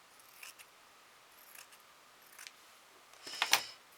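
Scissors make a few small trims on craft material for a baby's wooden-stick dreamcatcher decoration, faint, spaced snips followed by one louder, sharper double snip near the end, heard close in a quiet room.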